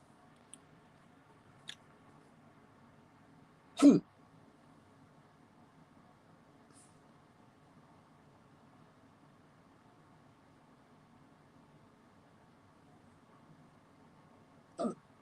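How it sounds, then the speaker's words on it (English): A person hiccups during a football livestream watchalong, two distinct sharp hiccups about eleven seconds apart over a quiet background hum, with a few faint clicks between. "Hiccup attack on camera."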